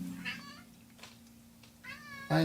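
An indoor house cat meows twice, close and moderately loud, over a steady low hum, with a sharp noise at the end.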